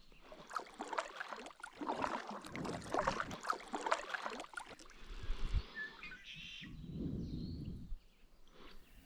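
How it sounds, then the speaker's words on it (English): Birds chirp and call at sunrise on Hosmer Lake from a kayak, busy overlapping songs for the first few seconds, then water sounds and fainter calls with a low rushing patch near the end. "the birds began chirping"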